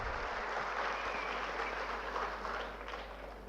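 Audience at an annual school programme breaking into sustained loud applause for a family and a guest, a thick continuous clapping that stays level and thins slightly toward the end.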